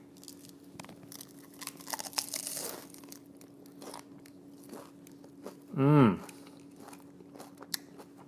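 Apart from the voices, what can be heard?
crunching bite of crispy cheese shell taco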